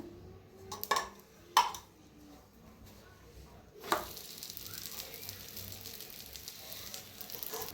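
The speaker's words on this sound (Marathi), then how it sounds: "आता ह्याला बी शेकून दाखवते. तेल सोडायचं." Oil poured onto a paneer paratha on a hot pan sets off a steady close sizzle, preceded by a few sharp clinks of a utensil against the pan.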